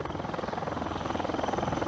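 Military helicopter of the Indian Army during a troop insertion, its rotor beating in a fast, even rhythm close by, loud and steady throughout with no talk.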